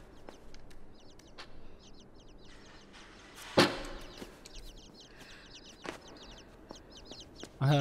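Chicks peeping in the video game INSIDE, a scatter of quick high chirps repeating through the scene with a louder thump midway and no talking.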